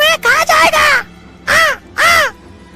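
A cartoon crow caws loudly and close, a rapid cluster of harsh calls followed by two longer separate caws, sounding like a voiced imitation.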